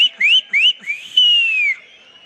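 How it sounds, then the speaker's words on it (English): Audience members whistle at a festive anniversary event on stage, a string of loud, bright separate whistles with rising and falling swoops, ending in one long sliding whistle. "Can I hear some whistles on this side?"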